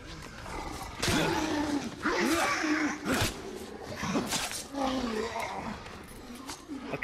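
Werewolves in The Order video game let out growling roars in repeated bursts over about seven seconds, loud and close, with game sound effects around them.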